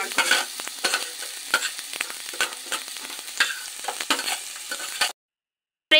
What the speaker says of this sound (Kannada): ಈರುಳ್ಳಿನ ಬೇಯಬೇಕು, ಎಣ್ಣೆಯಲ್ಲೇ ಫ್ರೈ ಆಗಬೇಕು.